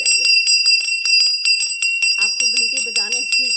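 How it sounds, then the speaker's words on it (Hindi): A small brass puja hand bell rung at home gives rapid, repeated bright metallic rings that keep sounding. A person starts speaking under the ringing near the end. "घर में घंटी बजाइए"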